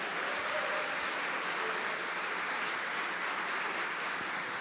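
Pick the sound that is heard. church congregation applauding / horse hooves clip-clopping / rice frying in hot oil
church congregation applauding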